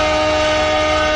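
A sleeper class passenger train runs on an Indian rail route, giving off a loud, sustained tonal horn-like drone that holds steady throughout the brief moment.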